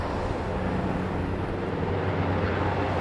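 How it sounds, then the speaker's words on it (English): A steady, broad rumble of a helicopter passing overhead, a continuous droning roar at moderate loudness with no talking. "Sounds like a helicopter."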